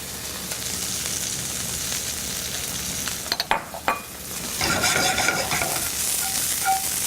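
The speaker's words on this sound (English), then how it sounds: "add just a touch of olive oil, and begin sweating our asparagus" Asparagus sweating in a warm pan with a touch of olive oil, a soft steady sizzle broken midway by a few clinks and scrapes of stirring, then a slightly louder sizzle, heard close with no voices.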